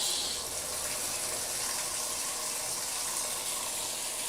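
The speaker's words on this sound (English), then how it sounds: "Step 2 is to turn the water on." A bath tap runs into a tub, a steady loud gushing hiss of water that stays even throughout with no talking.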